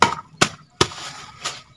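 A pounder strikes eggshells to crush them into fine pieces, four sharp, close thuds spaced roughly every 0.4 seconds, each with a brief crunchy rattle, the last one softer.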